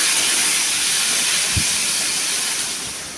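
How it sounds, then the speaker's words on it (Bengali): Garlic, onion and tomato fry in mustard oil in a kadai already tempered with cardamom, cinnamon, cloves and cumin for chana masala, giving a steady, loud, even hiss that eases slightly toward the end, with no talking. "ভেজে নিচ্ছি।"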